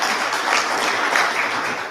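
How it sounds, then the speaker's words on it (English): A short burst of audience applause for Precinct 4 officers at a district quarterly update meeting, steady clapping from a moderate crowd lasting under two seconds. "Round of applause for Precinct."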